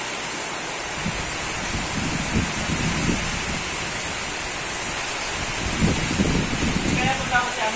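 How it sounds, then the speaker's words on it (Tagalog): Strong hurricane wind roars steadily at Taytay, Rizal, buffeting the microphone with continuous broadband rushing and gusty surges, with faint voices in the background. "Lakas ng hangin."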